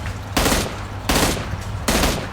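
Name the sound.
M16 rifle gunfire in PUBG video game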